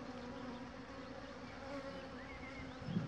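Honeybees buzz steadily around an open Dadant hive, a dense, continuous drone close by with individual bees flitting past, fairly quiet and without talking.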